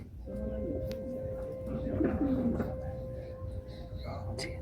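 Breeding pigeons in a loft coo steadily and close by, with deep repeated calls, some wing shuffling and a low murmur of human voices in the background.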